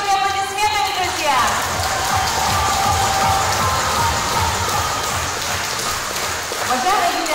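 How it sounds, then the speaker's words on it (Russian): Applause from a celebration audience welcoming an honoured woman, a dense steady patter of many hands filling the whole stretch, with music at the start and voices mixed in. "дружные аплодисменты, друзья!"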